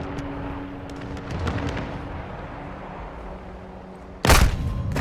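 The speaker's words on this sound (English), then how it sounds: "Hostile mortar strike incoming." In Modern Warfare 2, a low rumble of distant gunfire and battle noise runs steadily until a single sharp, loud blast of a mortar strike bursts in near the end.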